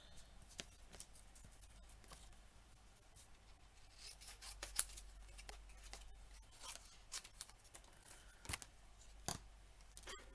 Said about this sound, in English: Cut that out.